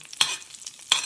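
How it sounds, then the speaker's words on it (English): Burnt butter crackles and sizzles in a pan while being stirred, two bright scraping strokes standing out over a steady close frying hiss. "we see burning here, so the butter has now burned."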